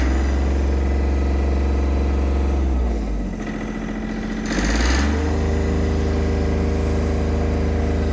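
Boat diesel motor revved hard at high RPM, a loud steady drone that drops briefly near the middle, then surges back to a sustained high rev with strong harmonic tones, heard close up.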